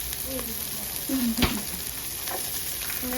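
Garlic and onions sizzle and fry in a pan, a steady close crackle with a few stirring scrapes and a light clack.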